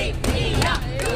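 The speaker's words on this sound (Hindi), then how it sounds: "आई एम श्योर ये जो हूटिंग हो रही है" Spectators hooting and jeering loudly at a box cricket league match, a brief burst of mixed shouts and whoops from a close crowd.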